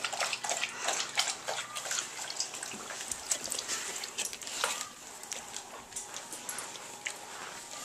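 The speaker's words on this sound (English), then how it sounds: "Olive, I am gonna give you a bath." Water runs from a tap into a tub for a dog's bath, a continuous splashing trickle heard nearby with small irregular spatters throughout.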